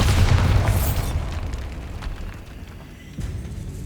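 A Bombarda blasting spell in the Hogwarts Legacy video game bursts with a loud, close explosion at the start. The rumble then fades into a quieter, echoing tail inside a decayed catacomb.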